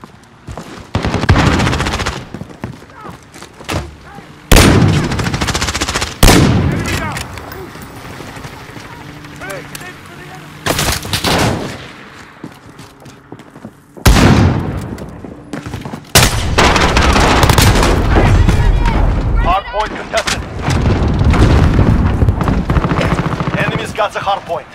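Heavy gunfire and explosions in a shooter game during a hardpoint fight, with loud bursts of automatic fire and booming blasts coming in repeated waves and separated by short lulls of rumbling background noise.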